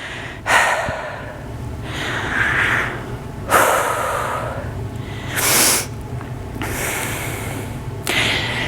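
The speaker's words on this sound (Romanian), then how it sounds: "Respir, lasă inspirul și expirul să ducă cum vrea el." Slow, deep breaths drawn in and let out during a guided body exercise, each inhale and exhale clear and close, with a steady rhythm of about five breaths and no talking.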